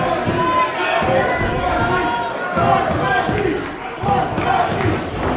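A pro wrestling crowd cheering for Phil Atlas in a championship match against Orlando Christopher, a dense, roaring mass of shouts and chants with surging swells and thumps from the ring beneath.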